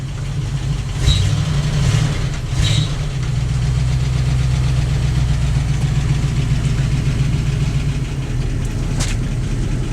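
A 1972 Dodge D200 truck engine idles after a cold start at 40 degrees and high elevation, giving a steady, loud low rumble with a few brief louder bursts early on.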